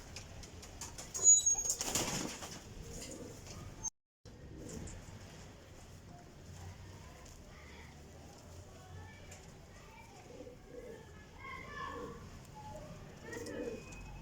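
Golden female flying pigeons coo softly and beat their wings, with a loud burst of flapping near the start and quieter cooing and rustling afterward, while someone talks in the background.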